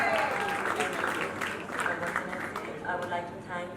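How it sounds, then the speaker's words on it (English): An audience claps steadily at a charity fashion show, the applause filling the room for a few seconds under a little crowd noise. "Round of applause, everyone."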